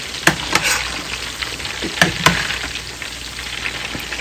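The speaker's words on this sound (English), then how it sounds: "So I'm frying the chicken now" Battered chicken sizzles steadily in hot oil, with a few sharp pops and clatters of stirring breaking through the frying noise.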